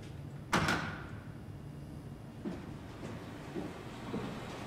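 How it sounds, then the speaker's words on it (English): In the horror video game SOMA, a creepy door gives a loud clunk or slam, followed by faint knocks and creaks at intervals over a steady hollow ambient drone. "Creepy door."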